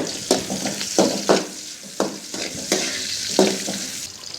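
Shallots sizzle steadily in a hot pan while a spoon stirs them in repeated scraping strokes, with no talking.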